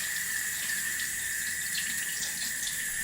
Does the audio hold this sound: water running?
yes